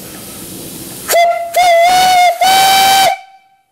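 A large antique steam boiler's whistle blows in three loud, sustained tonal blasts with brief gaps, rich in bright overtones and a hissing edge, then cuts off and fades.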